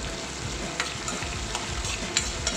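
Onions and dried red chillies sauté in a pan for guava chutney, a soft steady sizzle broken by a few light scrapes and taps of stirring.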